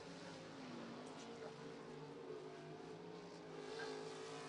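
Number 81A race car of Jeremy Alves on a qualifying lap, its engine a faint, distant continuous drone with a slowly shifting pitch.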